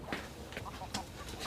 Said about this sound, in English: get rid of that chicken